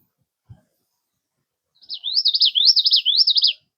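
A common yellowthroat warbler sings a clear, repeated high warbling phrase three or four times in quick succession, crisp and fairly close, in otherwise quiet surroundings at Back Bay National Wildlife Refuge.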